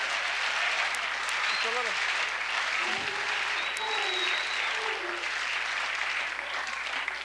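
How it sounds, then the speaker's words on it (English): A studio audience applauds and cheers throughout, dense steady clapping from a large crowd with a voice speaking briefly over it. "and the crowd goes crazy"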